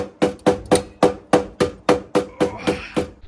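A hammer strikes the body of a crashed Mazda RX7 car about ten times, sharp metallic blows in a steady rhythm, close and loud with no talking.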